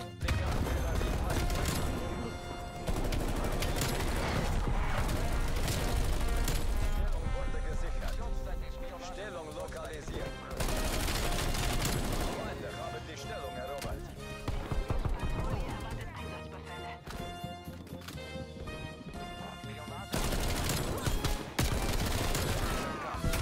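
A Bullfrog submachine gun fires in a video game, with rapid bursts of gunfire over a dense, loud mix of game sounds that continues almost without pause.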